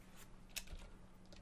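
Computer keyboard keys are tapped in a short, sparse burst of faint, close clicks, with one sharper keystroke standing out amid quiet background hum.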